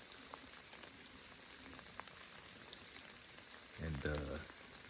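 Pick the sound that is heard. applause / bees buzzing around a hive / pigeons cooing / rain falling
rain falling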